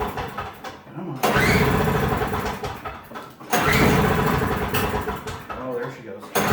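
A Toro snow blower engine catches after choke and primer-bulb pumping, cranking briefly before roaring up twice into a loud, close, steady running note, with a voice talking over it.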